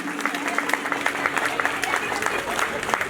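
An audience applauds performers at an event, a steady patter of many hands clapping with crowd murmur mixed in, and the clapping runs throughout.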